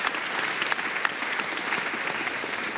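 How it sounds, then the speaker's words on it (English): Conference audience applause at a virtual reality event, an even, continuous patter of many hands clapping without any speech. "let's give a round of applause"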